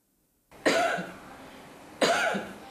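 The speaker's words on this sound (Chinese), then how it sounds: "用力对着麦克风咳嗽录音" Two forceful coughs are made close into a microphone, separated by about a second, each sharp at onset and trailing off, after a moment of near silence.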